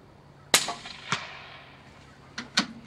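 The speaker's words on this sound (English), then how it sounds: "The sound you hear is it hitting the rubber tires down at the target." Subsonic 180-grain Hornady hollow-point rifle rounds strike rubber tires at a distant target, giving several sharp, faint cracks and thuds with short tails, spaced irregularly and without talk.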